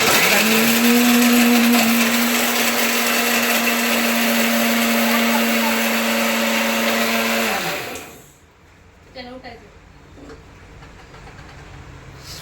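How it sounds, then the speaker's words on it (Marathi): A kitchen mixer grinder blends vegetable masala with a loud, steady, high whine for about eight seconds, then shuts off and winds down, leaving quiet room sound with a few faint clatters. "मिक्सरचा आवाज आला"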